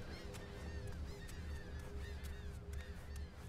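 Seagulls in the video game Die Young call repeatedly over a coastal tower, a flock of overlapping honking cries above a steady low wind or surf rumble.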